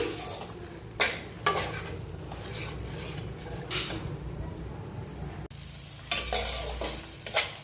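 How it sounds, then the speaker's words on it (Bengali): Spice masala with a pinch of sugar being stir-fried in a pan for chingri malai curry, soft sizzling broken by repeated scraping strokes of a spatula against the pan, close and without talk. "খুব ভালোভাবে মশলাটা কষিয়ে নিচ্ছি।"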